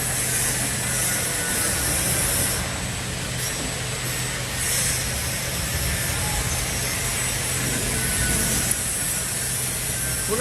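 PBM-C carton paper box making machine running as its mold drops down, a loud continuous mechanical clatter with a steady hum underneath and light ratcheting, rhythmic texture throughout, no voices.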